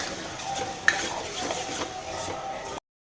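A spoon stirs and scrapes through boiled vegetables and Everest pav bhaji masala in a pan, making continuous close, soft scraping and clinking with a faint sizzle. One sharper knock rings out early on.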